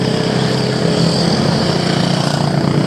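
Honda CRF motocross bikes riding past on a dusty summer road in the UK, a loud continuous engine drone heard close up from a moving motorcycle, without talk.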